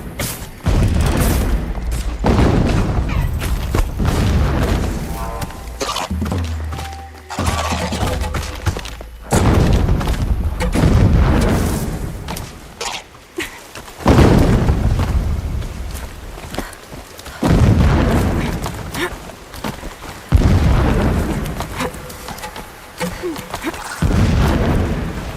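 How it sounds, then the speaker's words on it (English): Distant explosions in the game Horizon Zero Dawn Remastered, a run of heavy booms and thuds with muffled rumbling bursts that recur irregularly across the whole stretch. "Explosions in the distance"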